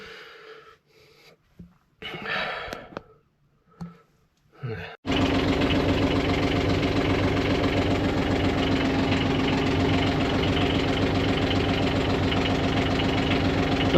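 A small sailboat's inboard engine, started to spare the batteries, turns over and then runs steadily with a loud, even knocking chug. Quiet clicks and handling noises come before it, and the engine keeps running to the end.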